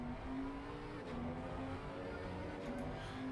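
An older right-hand-drive race car engine revs on the circuit at Circuit of the Americas, a steady high-pitched droning note rising and falling slightly, heard from a distance and fairly faint.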